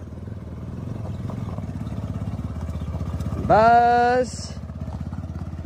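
Motorcycle ridden along a rough village road, its engine putting steadily with a rapid, bumpy chug throughout; midway a sharp, high horn-like whine sounds briefly, and a voice speaks a word.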